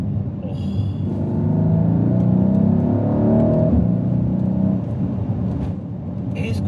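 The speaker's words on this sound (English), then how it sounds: "if you put your foot down, to the national speed limit of course, it sounds pretty damn nice" A 2022 Mercedes GLC 63S AMG with a twin-turbo V8 accelerates in a deep, rising engine rumble heard from inside the cabin. It holds loud and steady throughout.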